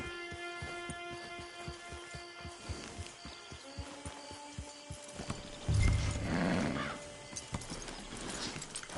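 Rhythmic clip-clop of horse hooves in Red Dead Redemption 2, steady footfalls over a musical background, followed by a louder snort or whinny midway before the hoofbeats fade.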